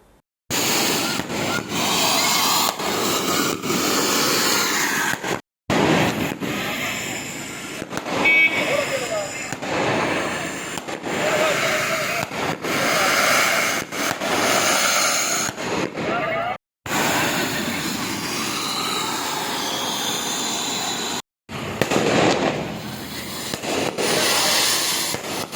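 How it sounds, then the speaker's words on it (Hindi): Firecrackers and fireworks go off in front of a gurdwara during a Guru Nanak Prakash Parv celebration, a long run of loud, sharp cracks and bursts broken by a few short pauses. "गुरुद्वारे के सामने सिख समुदाय के लोगों ने जमकर पटाखे फोड़े।"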